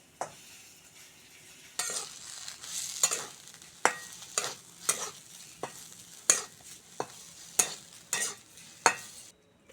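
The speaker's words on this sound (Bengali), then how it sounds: "ভালো করে নেড়ে চেড়ে শুকনো করে নেবো" Mashed taro leaves being stir-fried dry in oil for a village-style kochu pata bhorta, a soft sizzle broken by a regular series of sharp spatula scrapes and taps against the pan, close and with no voices.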